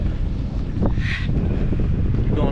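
Wind buffets the microphone on the Yorke Peninsula coast of South Australia with the tide out, a steady broadband rush that fills the whole clip, and a voice speaks very briefly.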